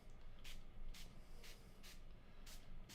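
A spray bottle is pumped in a crafting session, five short bright hissing bursts spaced evenly about half a second apart over a low steady background.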